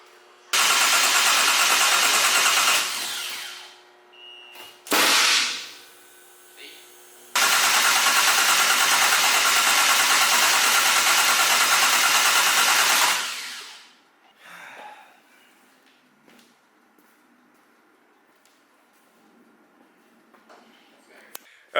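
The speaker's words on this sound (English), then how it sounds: "that last clip we left off with the car just cranking" An HKS RB28 stroker-engined car cranking in long loud bursts, a short attempt, a brief one, then a sustained six-second crank, each cutting off without the engine catching, followed by quiet background.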